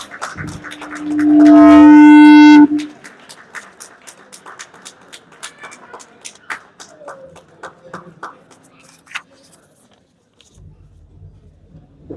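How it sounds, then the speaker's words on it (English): Applause at an awards night and gala dinner, starting after a loud sustained tonal blast, then scattered claps from the audience that carry on for several seconds before thinning out, with low room noise near the end. "with a huge round of applause"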